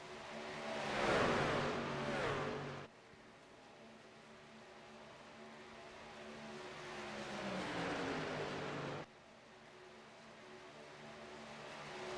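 Racing trucks roar past on the Talladega superspeedway in a Truck Series race, one loud pack sweeping by with rising then fading engine drone, followed by a second, quieter pass that swells and cuts off.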